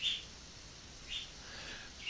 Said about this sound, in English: If you hear that chirping in the background, that's some birds.